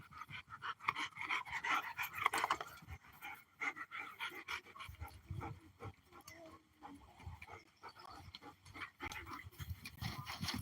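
Dogs panting in quick, rhythmic breathy bursts, with scuffling play sounds and low huffs between, close but fairly quiet.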